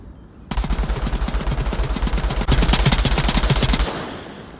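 Rapid automatic gunfire in the VR shooter Onward fires as a fast, loud stream of shots for about three seconds, grows heavier partway through, then cuts off, leaving quieter distant pops.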